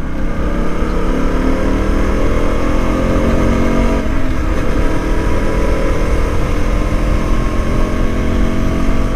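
A KTM Duke 125 motorcycle engine drones loudly and steadily throughout during a ride, its pitch rising and falling as it revs, with wind rushing past.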